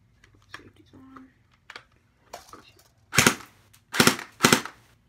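An airsoft gun with semi-auto and full-auto modes firing outdoors, three loud sharp cracks near the end following quieter handling clicks and a brief bit of speech.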